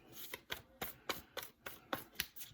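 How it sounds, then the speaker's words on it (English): Tarot cards being shuffled in quick riffled bursts, about nine crisp snaps in steady rhythm, close and fairly quiet with no talking. "2 more shuffles and I'll cut the deck."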